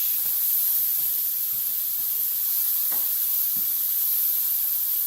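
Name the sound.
bacon frying in a pan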